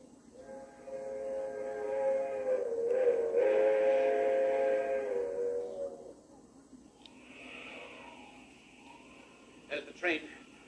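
A fast-moving train in a 1940 radio drama sounds a long, loud steam whistle, then rumbles on, with a second shorter whistle blast near the end and voices over the scene.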